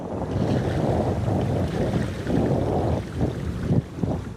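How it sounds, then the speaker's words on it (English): A large Great Lakes freighter, over three football fields long, moves through open water with a steady low rumble, wash of water and wind buffeting the microphone, continuous and fairly loud throughout. "The great ship of the Great Lakes moves quietly and efficiently through the water."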